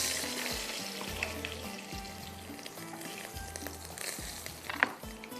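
Garlic fries in hot oil, a soft steady sizzle and crackle heard close, with a low repeating hum and a small clink near the end, no voices.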